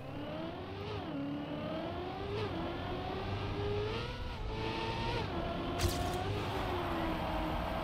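A car engine in the Trackmania racing game revs steadily while drifting, its pitch climbing and dipping in repeated sweeps with a brief sharp click near the end, loud and continuous.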